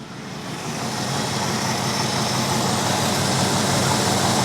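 A 1964 Buick Electra engine, freshly unseized and burning off oil from the exhaust, runs steadily with a loud, even rumble that swells slightly at the start and then holds, with no talking.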